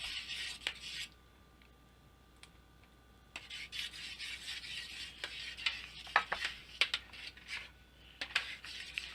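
A spoon scrapes and stirs cream through methi matar malai curry in a pan, giving faint, irregular rubbing and clinking strokes that grow busier toward the end.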